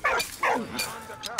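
Short yips and whimpering barks from a dog in the video game Valiant Hearts, several quick bursts in a row, close and fairly loud.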